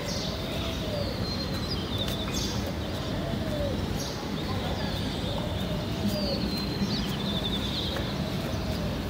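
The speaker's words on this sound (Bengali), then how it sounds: "ঘুঘু পাখির ডাক শোনা যাচ্ছে।" A dove coos in soft repeated phrases, a few seconds apart, at a moderate distance. Other birds chirp faintly over steady outdoor background noise.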